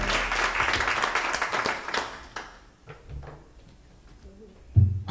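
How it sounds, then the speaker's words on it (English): Congregation at a Baptist church clapping in praise during a sermon, a burst of dense applause that fades after a couple of seconds, leaving a few scattered claps and light rustling. "give me a half clap of praise"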